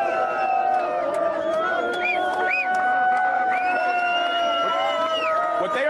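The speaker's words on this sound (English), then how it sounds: "there are a crowd of people, hundreds of protesters that have massed here" Hundreds of protesters massed at a demonstration against the removal of Arab Bedouins from the Negev desert, a nearby crowd with overlapping shouts, rising whoops and chanting voices that carry on continuously.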